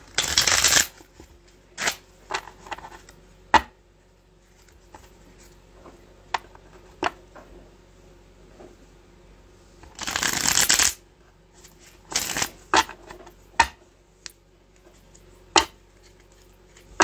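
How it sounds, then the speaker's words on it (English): A deck of cards is shuffled in several sharp, crisp bursts, each a quick riffle followed by a short pause, heard close up in a quiet room with faint taps between them. "Right, shuffle these."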